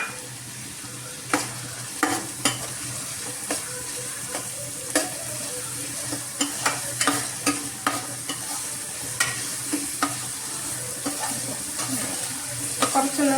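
Green beans are stirred into chicken fried rice in a hot pan, with a steady sizzle under repeated sharp scrapes and clacks of a spatula against the pan.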